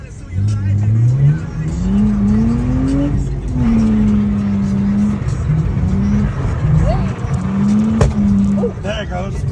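A bone-stock Lexus IS300 drifting, its engine revving and climbing in pitch while tires squeal, loud and close, with voices underneath.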